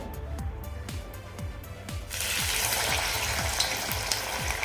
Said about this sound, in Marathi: आता यावर आपण आपल्या वड्या तळून घेणार आहोत